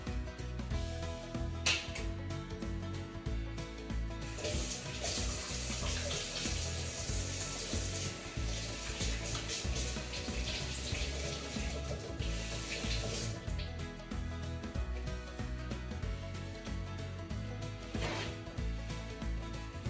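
Tap water runs steadily into a kitchen sink for several seconds while hands are washed before kneading sourdough sandwich bread, with a few brief splashes and clinks around it and no talking.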